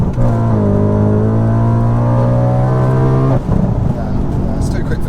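Supercharged 629 bhp Audi RS4 pulling hard in second gear on a street, a loud rising engine tone heard from inside that cuts off abruptly after about three seconds into a rougher rumble.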